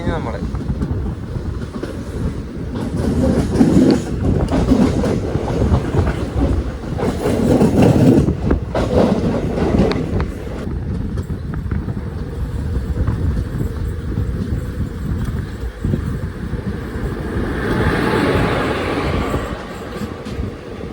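The Guruvayur Express rolls along the rails with a continuous rumble and rattle of carriages, heard from inside the moving train, with a passenger's voice talking over it throughout.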